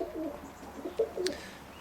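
Roller pigeons give a few soft, low coos in short bursts over quiet background, close by, with a brief higher chirp near the end.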